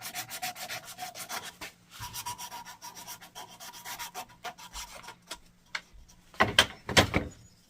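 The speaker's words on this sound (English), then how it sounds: "So I'm just using some 150 grit sandpaper here, taking off the arises, the sharp edges." Close, steady rubbing of 150 grit sandpaper over a wooden handle for a homemade gouge, easing the sharp edges. Strokes come in an irregular run of rasping passes, with a few louder, heavier strokes near the end.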